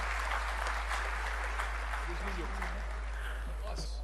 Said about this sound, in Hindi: आप जोरदार तालियों के साथ उनका इस्तकबाल